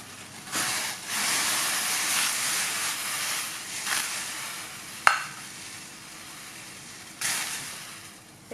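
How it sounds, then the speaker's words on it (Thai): Flank beef blanching in a pot of boiling water for a Thai coconut curry, heard as a steady bubbling hiss with swells and a sharp clank partway through, no talking. "ขั้นตอนแรกเราต้องเอาเนื้อมาลวกก่อนค่ะ"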